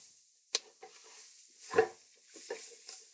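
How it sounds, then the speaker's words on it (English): A spatula stirring chopped vegetables and garlic through a roux in a gumbo pot, a handful of scraping, clacking strokes with soft sizzling between them, close and fairly quiet, no talk. "use your spatula to kind of cover the vegetables in the roux"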